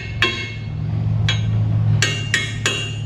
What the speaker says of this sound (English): All it takes is a little wrench hammer action.